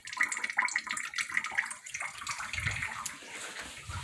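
Household tap after running water returned during a Texas freeze, water splashing and dribbling irregularly into a basin, close, continuous and fairly loud.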